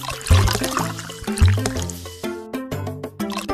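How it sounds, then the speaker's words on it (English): Cartoon shower water splashes and gurgles over a puppy in a children's pet care video game, with wet squishing drips and bubbly trickles set against bright, jingly game music. "Give the puppy a shower."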